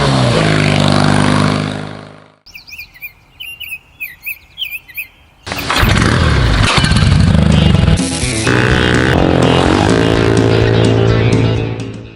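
A 1959 AJS Model 31 motorcycle is ridden through chicanes, its engine loud and close and rising and falling with throttle, broken by a quieter stretch where birds chirp before the engine roars back.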